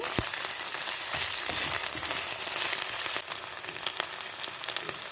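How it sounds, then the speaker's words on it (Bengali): Onion, garlic and ginger paste sizzles and fries in hot oil for broiler chicken curry, a dense continuous crackle with occasional stirring clicks throughout. "এখন আমি পেঁয়াজ বাটা, রসুন বাটা, আদা বাটাগুলো দিয়ে একটু নেড়ে চেড়ে কষিয়ে নেব"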